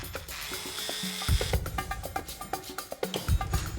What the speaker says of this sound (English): we're drilling holes into the ceiling.